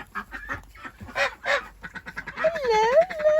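Geese and ducks in a backyard flock kept in a tunnel run honk and quack in bursts, loud and close, with a long wavering honk near the end.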